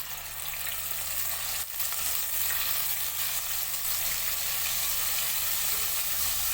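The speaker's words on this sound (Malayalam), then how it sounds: "നമുക്കിത് വറുത്തെടുക്കാം ആദ്യം" Dried fish fry in hot coconut oil, giving a loud, dense sizzle that runs steadily from start to finish with one brief dip early on.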